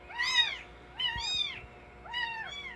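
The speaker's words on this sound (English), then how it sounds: "3 new kittens" Kittens meow three times in close succession, clear, near and fairly quiet, with a faint background hum.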